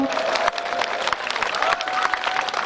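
A crowd applauds after a Korean folk farmers' music troupe performs at a folk village, dense sustained clapping with some cheering under a presenter's voice.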